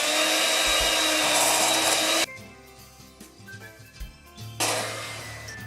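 Electric hand mixer whirring loudly as it beats vegan butter in a home kitchen, stopping for a couple of seconds with light clatter of the bowl, then starting up again, close and continuous.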